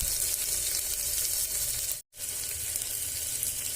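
Fish masala seasoned with turmeric and red chili fries in a pressure cooker pan, giving a continuous close hiss and sizzle, broken once by a sudden silent gap before the frying resumes just as loudly.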